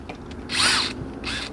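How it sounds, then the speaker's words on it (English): A power drill whirs close by while removing screws from an RV door lock, with two short high-pitched spins, the first longer and louder, then a second brief burst. "Always be careful using the drill."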